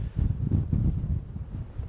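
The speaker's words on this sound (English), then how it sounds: "it's really blustery." Strong, gusty wind buffets the microphone on an exposed hilltop at Madwoman's Stones on Kinder, a low rumbling roar that surges and eases over a couple of seconds.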